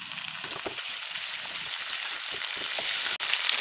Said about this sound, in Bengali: এখন আমি দিয়ে দেব আদা রসুনের পেস্ট, দিয়ে ভালো করে কষিয়ে নেব